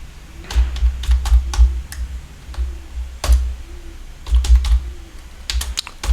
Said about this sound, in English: Let me type the code first